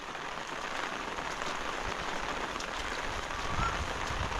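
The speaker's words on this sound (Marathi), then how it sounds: "पावसात गट्टू कशाला आला रे बाळा बाहेर" Steady rain falls in a dense, even hiss with no voices, continuous from start to finish.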